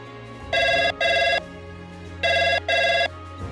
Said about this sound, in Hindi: तभी फ़ोन की रिंग बजी।